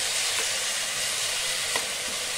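Tomato chutney sizzling in a pan, a steady hissing fry with one or two soft stirring knocks, close and even, no talk.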